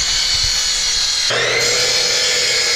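A power saw cuts 2x4 wooden beams to length, a loud steady whine that holds throughout and shifts pitch midway as the blade bites into the wood.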